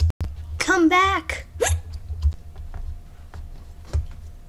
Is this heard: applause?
no